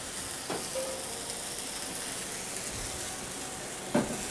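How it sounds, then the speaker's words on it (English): A cabbage pan deglazed with high-alcohol liquid gives a steady, close sizzle and hiss as it flames up, with a brief louder crackle near the end. "So we're going to deglaze there. It's going to flame up a little bit."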